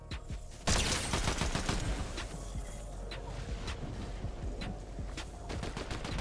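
Gunfire from a Fortnite match comes in dense, rapid bursts of automatic fire that crackle steadily throughout and sound moderately loud, with no voices over them.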